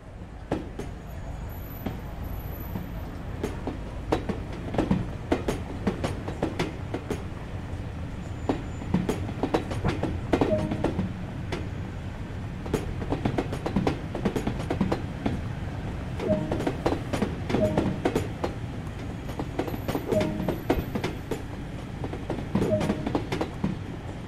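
A train pulls into a station in the Train Sim World 2 video game, with an LMS Stanier Class 8F steam locomotive in BR black livery nearby, giving a steady rolling rumble with repeated clicks and clatter heard alone for the whole stretch.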